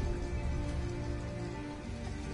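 Rain falls steadily in the video game Detroit: Become Human, a dense, even patter on surfaces with no voices, constant and fairly soft throughout.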